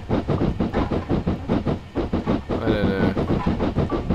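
A 7F steam locomotive in Train Simulator 2014 chuffs in a fast regular rhythm, loud and close, with a brief hiss of steam near the end and someone speaking briefly over it.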